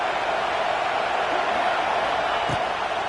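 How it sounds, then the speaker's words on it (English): Ohio State Buckeye football stadium crowd roaring steadily on third down, a dense, continuous wall of cheering and noise with no break, loud and broad throughout. "The Buckeye crowd alive on third down."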